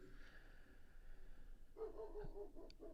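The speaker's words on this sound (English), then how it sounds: "you can probably hear a dog barking in the background" A Great Pyrenees barks in the background, a few muffled, fairly distant woofs over steady low room noise.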